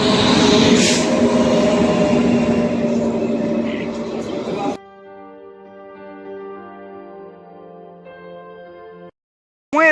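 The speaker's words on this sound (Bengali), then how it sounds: "চলো ট্রেন দেখতে পাচ্ছ ঢুকে গেছে" The Teesta Torsa Express (13141) pulls into Nabadwip Dham station with a loud, rumbling approach, then drops to a quieter, steady tonal stretch before a brief final burst.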